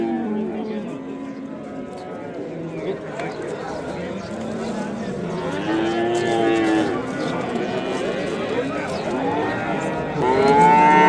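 Simmental cattle moo repeatedly at a livestock market in Shahrixon, Uzbekistan, some calls long and drawn out, while people talk nearby over a busy outdoor background.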